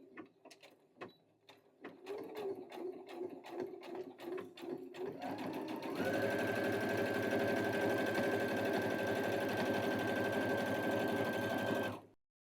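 Sewing machine back stitching on a baby quilt, starting with slow separate needle thumps that speed up into a steady fast whirring hum, close and alone.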